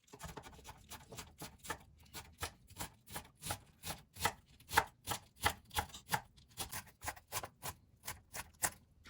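Carrots and cabbage finely chopped with a knife on a board, a quick, even series of crisp taps repeating steadily and close, fairly quiet with no talking.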